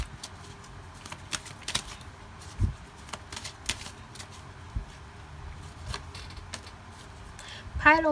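Tarot cards being shuffled and drawn make a series of quick, soft riffles and card snaps at irregular intervals. A voice is heard briefly near the end.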